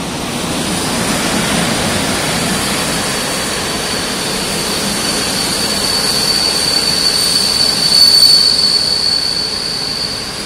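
A train rolls in with a steady loud rumble and a sustained high metallic squeal from the wheels, building slightly toward the end.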